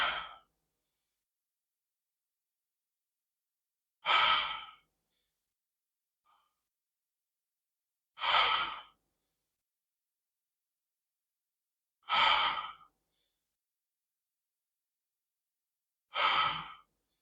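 Slow breaths in and out during a seated chair yoga session, five soft, evenly spaced exhales about four seconds apart, alone against near silence.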